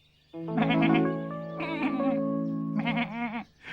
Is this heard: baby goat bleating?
yes